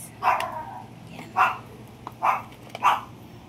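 Dogs with allergic dermatitis barking in four evenly spaced, clear barks close by, with faint whimpering between them and no talking.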